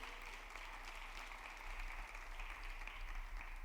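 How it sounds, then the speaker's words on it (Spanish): Applause from a church congregation during a sermon, a steady wash of many hands clapping at moderate, even loudness from start to finish. "Lo aplaudimos"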